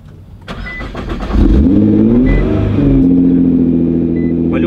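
A Nissan GT-R R35 engine, tuned to 730 horsepower, cranks and catches, then revs up loudly, its roar rising and falling before settling into a deep, rumbling idle.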